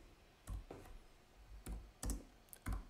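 Keys tapped on a computer keyboard while writing VHDL code for an FPGA logic gate, a handful of separate clicks in small irregular bursts, close and clear with no talk.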